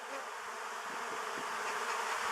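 Bees buzz steadily and densely around a beekeeper working among them, a continuous close drone with no voices over it.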